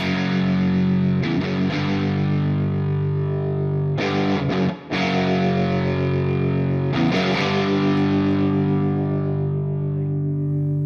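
Mooer SD30i portable practice amp cranked to maximum distortion with spring reverb still loaded, a loud, dense, sustained guitar roar broken by a few short pauses and restruck chords.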